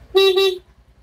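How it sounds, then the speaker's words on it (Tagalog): Stock horn of a Yamaha Mio i 125 scooter, a single short bright honk lasting about half a second over a low idling putter, up close. "Ito yung busina niya."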